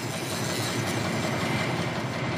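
St. Kitts Scenic Railway locomotive, in need of repair, rumbles along with a steady, loud rolling roar and faint clatter of wheels on track, close and continuous.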